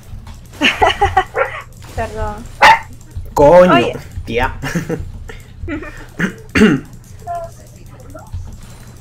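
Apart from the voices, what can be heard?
dog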